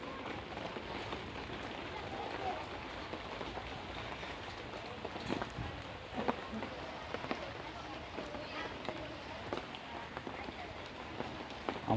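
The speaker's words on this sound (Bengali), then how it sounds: "বৃষ্টি হইতেছে প্রচুর।" Heavy rain pours down steadily, a dense, even hiss of drops with scattered sharper splashes, while a voice talks faintly underneath.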